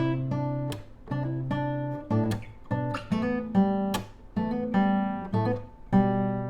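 An acoustic or clean guitar plays a riff, repeating short plucked phrases with hammer-on notes in a steady rhythm, close and clear, with no talking.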